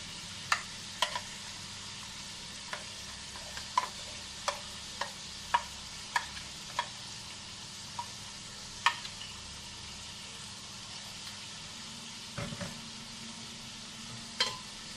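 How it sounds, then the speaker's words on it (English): Masala paste stirred into frying mutton in a pan: a steady sizzle under repeated sharp scrapes and taps of a spoon against the pan, spaced roughly every half second. "We're now going to add that paste onto this mutton."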